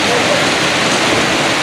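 Heavy rain pours down in a dense, loud, unbroken hiss close by.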